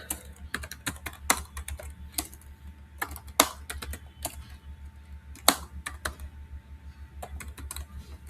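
Steady typing of HTML code on a computer keyboard, with rapid clusters of clicking keystrokes broken by short pauses and a few louder strikes, close up over a low constant hum, with no talk.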